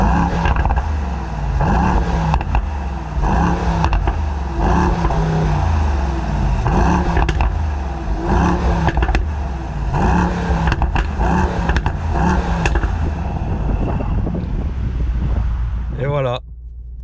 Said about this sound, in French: Je vais également vous mettre l'échappement et vous faire écouter la sonorité de l'extérieur.